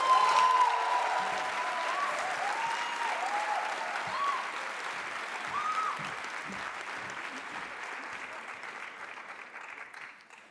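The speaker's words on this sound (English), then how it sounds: "Let's give a round of applause for the UWC Director of Secondary" Audience applause at a school leavers' ceremony, the UWC Maastricht leaving class ceremony of 2023, as a sustained, dense clapping that holds steady and then slowly fades toward the end.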